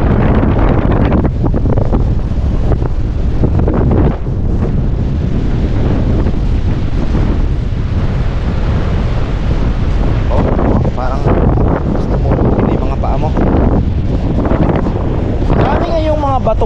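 Strong northeast monsoon wind (amihan) buffets the microphone at Casapsapan Eco Park beach in Casiguran, a loud continuous roar with surf washing underneath and brief voices in the background.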